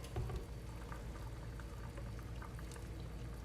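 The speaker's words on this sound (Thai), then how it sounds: "เติมน้ำปลาลงไปนิดนึง" Fish sauce pours into a pot of simmering tom kha chicken soup, a faint, steady liquid trickle over a soft bubbling background, close and quiet, with no talking.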